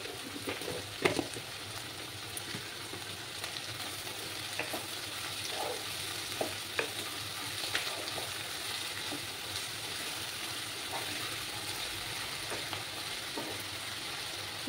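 Onions with a pinch of sugar fry in a pan to a reddish brown, a steady soft sizzle running throughout while occasional scrapes and taps of stirring break through, no one speaking.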